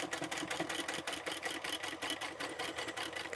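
An electric sewing machine backstitches through upholstery fabric on a boxy bag, a close, rapid, even needle chatter running steadily with no voices.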